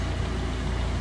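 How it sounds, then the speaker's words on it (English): Inside a 1996 Mitsubishi Lancer Evolution IV GSR, the heater or AC fan blows with a steady, dense low rumble and airy whoosh, unchanging and close, with no talk. "you can probably hear the fan running right now just because I got the heat on"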